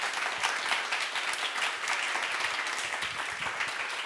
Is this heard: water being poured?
no